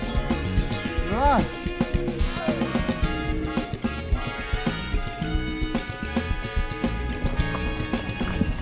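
A horse walks along the trail from Srinagar to Gulmarg, its hooves clopping in a steady rhythm under people talking and other dense background sound, with a brief whinny near the start.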